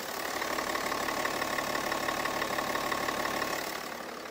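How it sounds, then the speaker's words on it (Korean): A BMW 730Ld xDrive diesel engine, six-generation 7 Series with M Sport package, idles steadily with an even, smooth hum and a faint rhythmic knock, close and alone, easing slightly at the end. "엔진 소음 키로수에 맞지 않는 굉장히 정숙한 엔진 소음 보여주는 차량인데, 엔진 소음 먼저 들려드리면은"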